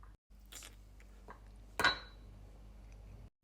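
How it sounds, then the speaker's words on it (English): Garlic crushed with a pestle in a mortar: a few soft clinks, then one sharper knocking strike, close and quiet, with stillness around them. "I'm gonna crush it in a mouth pestle and mortar very quickly"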